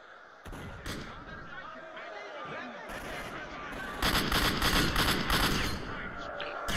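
Shotgun blasts and battle noise from the video game Stalker: Shadow of Chernobyl in an arena fight, loud booming shots over a dense rumble that thickens in the second half, with a voice talking in places.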